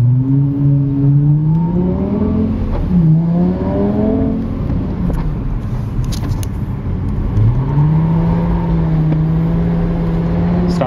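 A Lexus LFA supercar pulls away on a residential street, its engine rising through revs in smooth climbing sweeps, easing off briefly, then building again, loud and close from inside the car.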